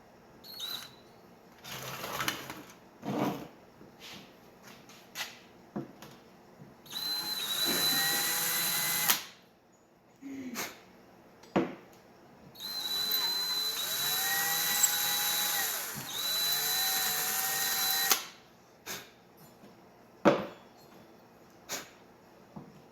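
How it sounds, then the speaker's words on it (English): A power drill whirs in two sustained runs of several seconds each as it bores into a Honda Elite AF16 scooter engine case, separated by short knocks, clicks and handling noises close by. "we're going to try this drill bit right here and see what we get with the head"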